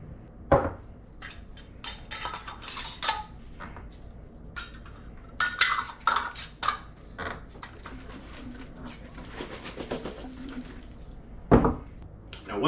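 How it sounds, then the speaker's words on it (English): Metal lids being screwed tightly onto glass jars of Nocino, an Italian black walnut liqueur: clustered scraping, clinking twists and knocks in irregular bursts, close and fairly quiet. "we're going to screw on the lids nice and tight"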